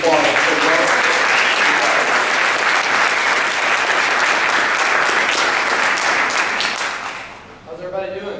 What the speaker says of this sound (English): will you just give him a big round praise and applause?